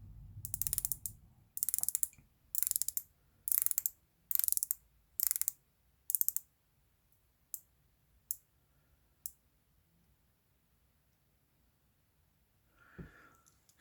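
A Pagani Design PD1671 dive watch bezel is turned by hand, giving a run of crisp ratcheting click bursts close up, first in dense clusters, then single sharp clicks spaced about a second apart, ending with a faint rustle.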